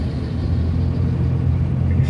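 A car without front lights drives along a forest road at Kayangan Api, heard as a loud, steady low rumble of engine and tires, close by and without talk.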